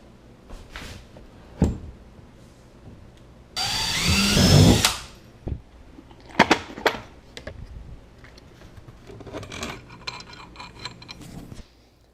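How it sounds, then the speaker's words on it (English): A power driver runs a bolt through a kayak seat and plywood into an aluminum rail in one loud burst of about a second, surrounded by scattered clicks, knocks and handling clatter. "Just got to add a couple bolts through the seat and the plywood into the aluminum rail"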